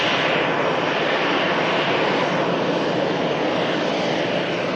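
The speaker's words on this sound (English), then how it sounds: "EasyJet Airbus A320 coming in with targets." An EasyJet Airbus A320 airliner coming in to land at Manchester Airport, a loud continuous jet-engine roar that stays steady throughout, with no talking.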